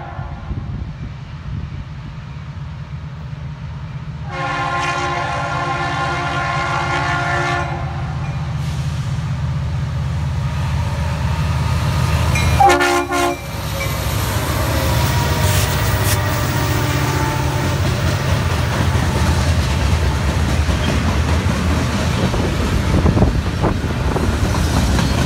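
A Norfolk Southern freight train led by an NS SD60M locomotive, with a UP SD70M and an SD60E behind, rumbles past steadily and loudly, its wheels and cars clattering for the whole stretch, while a horn sounds briefly early on.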